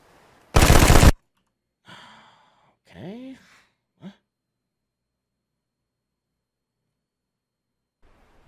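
A single burst of gunfire in the video game DayZ, one loud sharp shot that cracks out near and alone, followed by scattered breaths and sighs with long stretches of quiet.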